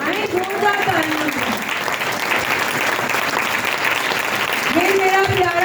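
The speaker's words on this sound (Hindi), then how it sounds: "आए जोरदार तालियां" A church congregation claps loudly and continuously during a sermon, with a voice calling out over the applause at the start and again near the end.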